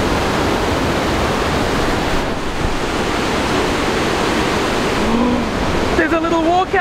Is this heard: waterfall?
yes